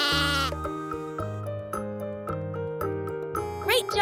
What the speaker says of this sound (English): Sheep say ba.